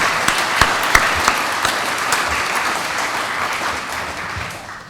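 An audience at a scholarship awards ceremony gives a round of applause, with a few sharp individual claps standing out early over a steady crowd clapping that slowly fades.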